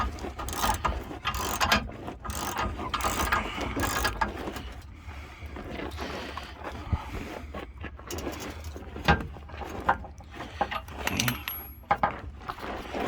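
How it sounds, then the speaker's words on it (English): Half-inch ratchet turning the torsion keys on a 1995 Chevrolet Silverado, repeated rapid clicking bursts with metallic clanks and pauses between strokes, close and fairly loud. "ratchet"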